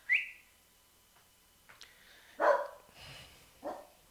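A dog barks a few times at a distance, short separate yaps spaced out over a few seconds against a quiet background.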